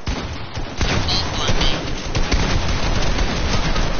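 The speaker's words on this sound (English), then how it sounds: "No, they're all shooting at me." Dense, continuous gunfire in a video game, loud and overlapping shots forming a heavy barrage, with voices mixed in under the noise.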